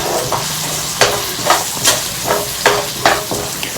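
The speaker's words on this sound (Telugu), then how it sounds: "ఫిష్ ఫ్రై చేసుకున్న ప్యాన్లోనే ఫ్రై చేసుకోండి" Onions fry in hot oil left in the pan used for frying fish, giving a steady close sizzle broken by about half a dozen sharp spatula stirs and scrapes.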